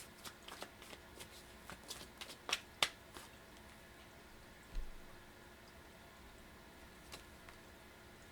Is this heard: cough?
no